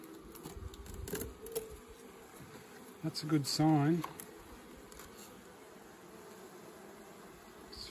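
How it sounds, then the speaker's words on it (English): Honey bees hum in a mini mating nuc hive, a low steady insect drone beneath close talk, with a louder buzzing swell at mid-clip. "There's a few bees in the back there."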